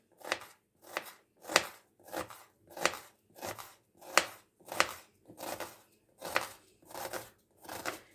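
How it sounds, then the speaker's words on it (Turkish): Onions being sliced thin into half-moons with a knife on a board, a steady run of about a dozen crisp chopping strokes at an even rhythm, close and clear with no talking. "hemen soğanlarımı yarım ay olacak şekilde ince ince doğruyorum."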